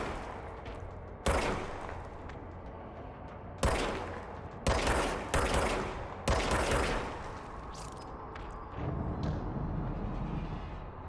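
Bursts of rapid automatic gunfire from the service weapon in the video game Control, several loud volleys with sharp onsets and echoing tails, separated by short pauses and a lower rumbling hum.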